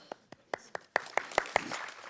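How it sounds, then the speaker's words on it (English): An audience welcoming a speaker at a cultural community event starts with scattered single claps, then builds into fuller applause within a couple of seconds. It sounds moderately close and fairly quiet overall. "Yeah, the applause is for you, not for me."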